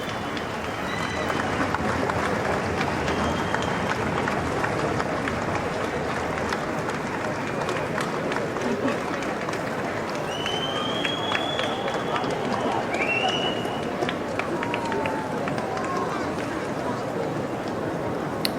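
Crowds clapping steadily as Queen Elizabeth II's coffin procession moves slowly past in Edinburgh, a dense, continuous wash of applause from many people with faint voices mixed in.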